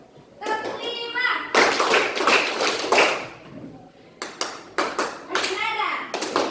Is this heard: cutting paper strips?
no